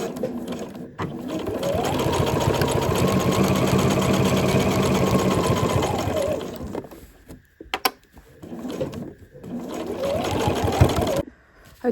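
A sewing machine stitches down the edges of a fabric tube for a gift wrap caddy, running in a steady, close whirring burst for several seconds, stopping, then starting again in a shorter run.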